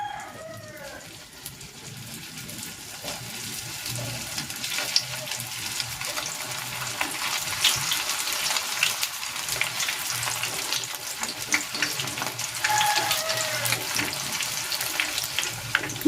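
Ham and cheese dynamite lumpia deep frying in hot oil, a continuous dense bubbling sizzle that swells gradually and holds steady and close throughout.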